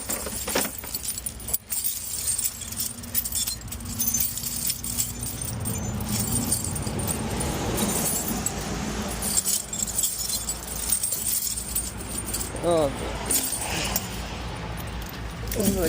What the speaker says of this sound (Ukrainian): Достаємо наші чудові ланцюги.